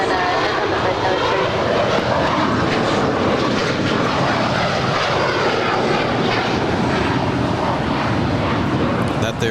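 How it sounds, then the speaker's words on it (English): A Gulfstream IV business jet takes off at Los Angeles International Airport, a loud, continuous broadband engine roar that stays steady and dense throughout. "That there is a beautiful Gulfstream 4 blasting off to locations unknown"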